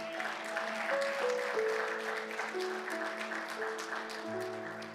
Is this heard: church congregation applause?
yes